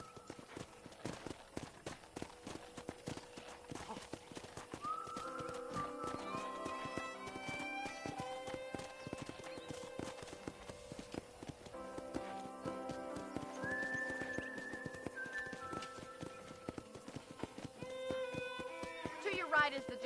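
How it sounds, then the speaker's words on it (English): Horse hoofbeats in the Red Dead Redemption video game sound as a steady clip-clop of riding across a ranch, with occasional whinnies and in-game music and ambience layered throughout. "let's see if you can still ride a horse."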